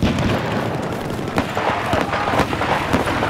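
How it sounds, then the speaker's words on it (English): Explosions and blasts from an incoming missile strike in Battlefield 4 on the Hainan Resort map, a dense, continuous rumble with several sharp booms over about three seconds, loud throughout. "Enemy missile inbound."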